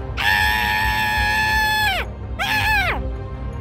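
A stepmother in an animated Hindi story screams loudly: a long, sustained shriek that drops in pitch at the end, then a second, shorter scream that also falls off, both alone and without speech.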